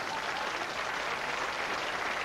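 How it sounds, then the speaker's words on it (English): Dense, steady applause from a large television studio audience fills the whole stretch, loud and continuous without pause. "If it gets applause in,"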